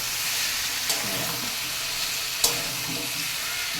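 Taro curry cooks in a pan with a steady close sizzle and bubbling, punctuated by two sharp clicks of a utensil.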